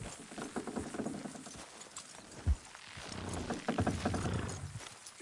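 Horses in the Red Dead Redemption 2 video game trot with steady, fairly close hoof clip-clops and occasional heavier thuds, heard alone without talk.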